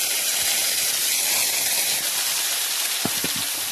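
Spice paste for dhoka frying in very hot oil, a loud steady hiss and sizzle that fills the clip, with a few faint clinks near the end.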